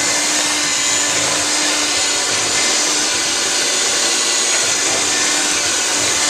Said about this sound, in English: Now she's going to mix it all together.